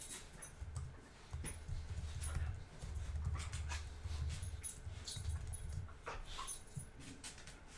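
Dog in a video game panting and whimpering, rhythmic breathy pants with thin whines, near and moderately quiet, over a low background hum.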